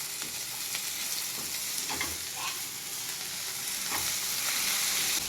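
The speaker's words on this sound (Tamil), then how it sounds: "இப்போ புதினாவும் கொத்தமல்லியும் அந்த வாசனை போக மறுபடியும் நல்லா வதக்கிக்கணும்" Mint and coriander sautéing in a pan for biryani, a loud continuous sizzle with occasional soft stirring scrapes, close up.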